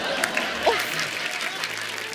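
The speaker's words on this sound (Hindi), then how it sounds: "एक बार जोरदार तालियां" Studio audience applause on a Hindi comedy talk show set, a steady wash of clapping filling the whole short stretch at moderate level with no break.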